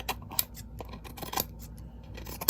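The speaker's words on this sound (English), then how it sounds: "take your scissors and just trim around" Close snipping of scissors trimming around the edge of a craft ornament, a rapid series of short crisp cuts with small clicks, no voices.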